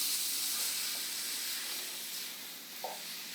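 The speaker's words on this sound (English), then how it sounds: "I'm going to cook this until the hamburger is brown and the onions are clear" Hamburger meat and onions browning in a pan on the stove give off a steady, soft sizzling hiss that continues without a break and slowly fades.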